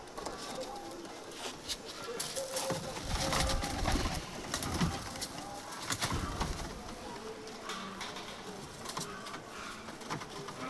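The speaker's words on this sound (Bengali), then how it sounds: "এখন আমার ধাপ্পির কিছু কবুতরের বাচ্চা" Young pigeons coo and call from a home loft, their soft repeated calls set against steady background noise, with some wing rustles and movement close by.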